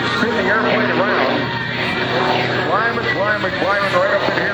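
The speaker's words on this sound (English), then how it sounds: "Let the torque the engine spin the airplane around" Aerobatic airplane engine droning through a torque roll at an Airshow at Lehigh Valley International Airport, a steady loud roar with rising and falling tonal sweeps, heard under continuous commentary over the PA.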